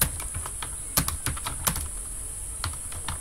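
HTML code is typed on a computer keyboard in quick irregular runs of clicking keystrokes, with a few louder taps. The sound is close and moderately loud over a steady high-pitched background whine, with no talking.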